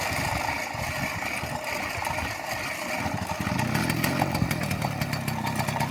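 A motorcycle engine starts and runs steadily after its cylinder head has been removed and refitted, a loud, continuous rough mechanical drone close by with no talk.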